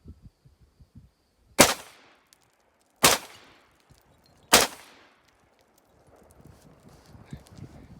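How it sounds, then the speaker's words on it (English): Three loud, sharp AR-15 rifle shots fired at skeet targets, about one and a half seconds apart, with faint clicks and handling noise before and after. "You're going to have 3 shots to shoot each one time."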